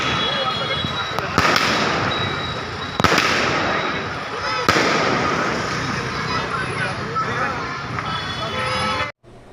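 Firecrackers crackle and pop in a dense, continuous barrage at an election victory celebration in Satpur, Nashik, with a few sharper loud bangs standing out, close by.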